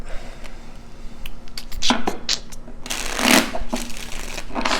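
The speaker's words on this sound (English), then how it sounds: "Let's do one more shuffle." Tarot cards being shuffled by hand, a quick series of crisp riffling bursts and snaps, close and clear, building to a louder dense shuffle near the end.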